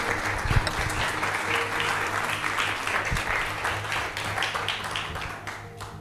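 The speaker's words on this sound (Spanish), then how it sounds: "Dale un aplauso al Señor." A church congregation breaks into sustained applause during a Spanish-language sermon, a dense, steady wash of many hands clapping at once that holds for several seconds before gradually thinning out.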